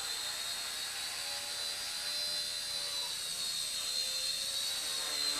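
A Hisky HCP60 RC helicopter flying, its steady high-pitched rotor and motor whine holding at an even, constant level throughout with no talking.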